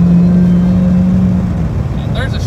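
A Dodge Hellcat V8 at light throttle, a steady deep engine drone with a low humming tone that fades slightly as the car cruises, heard loud and close from inside the car.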